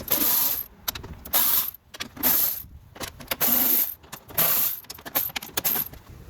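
Ratchet spinning out 10 mm bolts from a 2012-2016 Honda CR-V door panel, in repeated bursts of rapid metallic clicking and ratcheting separated by short pauses, close and fairly loud.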